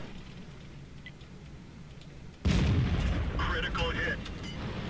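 A tank cannon fires with a sudden heavy boom in World of Tanks, followed by dense rumbling battle noise with metallic impact clatter, loud and close after a quieter stretch of low engine drone.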